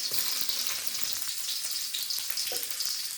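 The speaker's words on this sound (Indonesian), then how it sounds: "Kita tumis sampai wangi." Shallots sautéing in hot oil in a pan, a steady crackling sizzle with a few light stirring taps.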